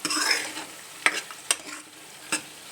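Tomatoes roasting with spices in a pan, a soft sizzle that fades slowly, punctuated by a few sharp scrapes and knocks of a spoon against the pan.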